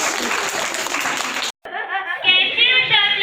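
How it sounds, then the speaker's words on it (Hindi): Audience at a Christmas puppet show clapping loudly for about a second and a half, then a brief cut, followed by a voice speaking. "जोरदार तालियां।"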